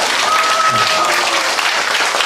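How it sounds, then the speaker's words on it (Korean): Group applause for team leaders at a Korean company gathering, a steady dense clapping that fills the whole moment with voices faintly mixed in. "우리 다 같이 큰 박수 한번 좀"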